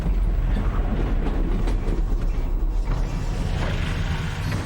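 Train in the video game Half-Life: Alyx rolls along loudly, a dense rumble of wheels and rail noise mixed with metallic creaks and clatter, steady throughout with no voices.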